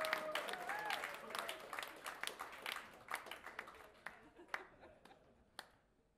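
A concert audience applauding at a birthday show, a quick flurry of claps that thins out into scattered individual claps and fades, with a brief voice at the start.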